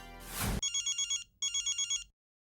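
A telephone rings with an electronic trilling tone, two bursts separated by a brief pause, preceded by a short loud blast of noise.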